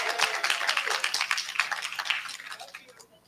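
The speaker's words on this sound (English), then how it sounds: "Let's give Beautiful a round of applause." Audience applause at a live-streamed presentation, a burst of scattered hand clapping that thins and fades over a few seconds.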